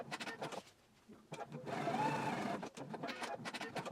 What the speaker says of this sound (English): Let's go ahead and baste that down right now while we're here at the machine.